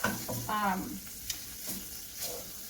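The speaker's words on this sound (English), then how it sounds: "I'm kind of getting impatient with how long it's taking for my bacon to render." Bacon slowly frying and rendering in a pan over low heat on a gas stove, a quiet soft sizzle with faint crackles beneath intermittent speech.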